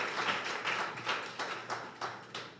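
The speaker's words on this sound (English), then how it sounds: "give yourself a big round of applause for that" Audience applause fills a public speaking class graduation ceremony, a steady wash of many hands clapping with swelling bursts that rise and fade in waves.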